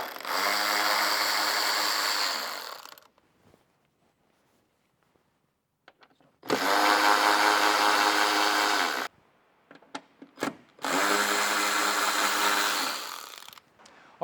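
An electric ratchet whirs in three long bursts, each roughly two to three seconds, with pauses between them and a few short clicks in the gaps, while fastening bolts on the tail light of a 2018-on JB74 Suzuki Jimny.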